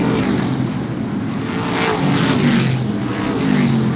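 Modified race cars roar around the oval at Seekonk Speedway during a True Value Mods 100 race, a loud continuous engine drone with repeated rising passes as cars work through the first turn.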